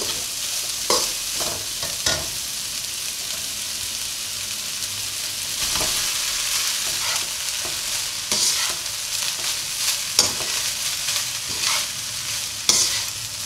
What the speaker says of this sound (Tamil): இதை 2 செகண்ட் ஃப்ரை பண்ணிட்டு நம்ம ரைஸ் எடுத்து போட்டுக்கலாம்.